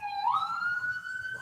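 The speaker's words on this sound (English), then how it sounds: "It's the ambulance." Ambulance siren on a rainy street, a single rising wail that climbs and holds, heard from a moderate distance indoors, faint and alone without talk.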